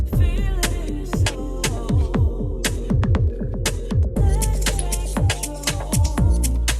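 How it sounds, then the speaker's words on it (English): A Launchpad app loop with a slower echo DJ effect, steady thumping kicks and bright percussive hits, each followed by spaced, fading repeats in a continuous electronic groove. "and a slower echo."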